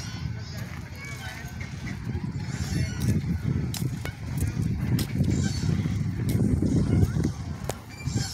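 Waterfowl at Woodland's Park, a long-necked bird giving a few scattered honks amid outdoor ambience, mostly under continuous nearby conversation.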